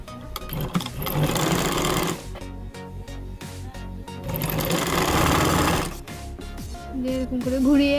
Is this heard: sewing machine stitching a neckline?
yes